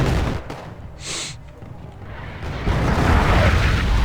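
Artillery fire in the video game Wargame: deep booming blasts and rumbling impacts, loudest near the end, with someone talking over the bombardment.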